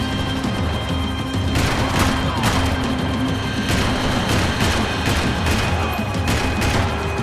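Dense gunfire in the video game Max Payne 3, a sustained fusillade of rapid shots and booms layered over a loud, constant background of action noise.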